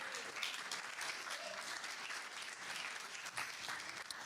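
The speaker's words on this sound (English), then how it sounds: "Can we have a round of applause, please?" An audience at a UK B2B SaaS sales leaders' event applauds as a speaker comes up to the stage, a fairly soft, distant wash of many hands clapping that lasts about four seconds.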